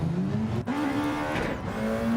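A touring race car in a racing game pulls out of the pit lane at Trial Mountain, its engine whining steadily and shifting up, with a brief tyre scrub partway through.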